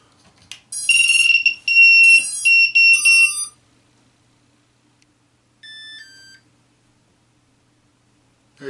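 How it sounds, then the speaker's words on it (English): A Walkera F210 racer drone's radio controller beeps after binding, giving a loud series of short, bright electronic tones in quick succession, then a softer pair of beeps a few seconds later, in an otherwise quiet room. "Controller beeps back telling me it's bound."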